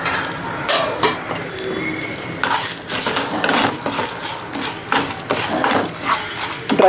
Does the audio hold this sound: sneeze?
no